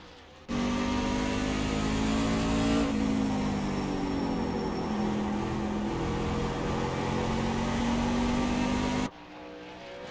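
A race truck engine drones loud and continuous through a timed lap, its pitch holding high, dipping slightly and then climbing again before it cuts off abruptly near the end.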